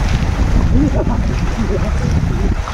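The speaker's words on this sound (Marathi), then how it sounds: "इथे पाण्याला खूप स्पीड आहे आणि पाणी इतकं गार आहे" Loud, steady rush of a fast-flowing, cold hill stream at Machal in the Konkan during monsoon, filling the whole clip, close by, with a broad roaring texture and a faint voice underneath.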